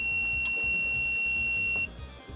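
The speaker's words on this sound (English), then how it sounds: "a loud beep letting you know that they were dead every single time you turned on" A Sega Dreamcast VMU's low-battery warning at system start-up sounds as one steady, high-pitched electronic beep held for nearly two seconds, then cut off, over a low background hum.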